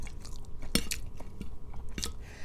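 Someone chewing a meal of stir-fried basil chicken with fried egg and brown rice, close and quiet, with a few crisp crunchy bites and soft mouth noises spaced irregularly.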